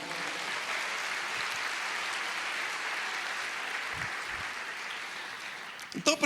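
Church congregation applauding, a dense, even wash of clapping heard from across the room, sustained at moderate level for several seconds with a few louder thumps at the end.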